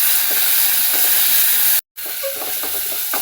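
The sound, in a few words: frying ginger garlic paste in oil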